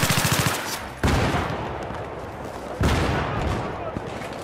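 Battlefield 3 gunfire erupts in rapid automatic bursts, one fast rattling volley and then two heavy blasts with echoing tails.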